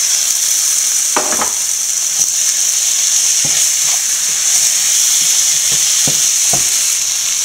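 Shrimp dropped into hot oil with garam masala and spices, a loud continuous sizzle and hiss with several sharp bursts of spattering and stirring scrapes.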